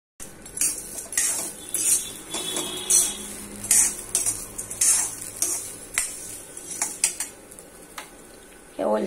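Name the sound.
wheat being stirred and roasted in a pan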